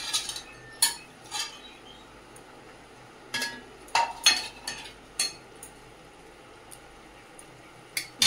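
Fish pieces being added to a pan of brinjal curry: sparse metallic clinks and knocks of a utensil against the pan, coming in irregular clusters over a quiet simmering background.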